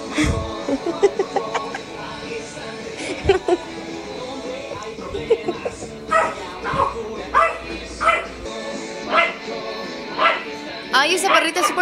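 A small dog yaps and whimpers repeatedly in short, high barks, with people chuckling and talking over it.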